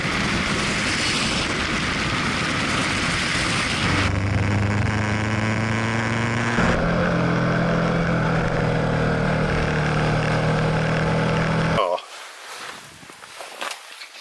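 A BMW XR motorcycle engine drones loudly and continuously while riding, with rising rev tones shifting in pitch under wind rush, then cutting abruptly to quieter road noise near the end.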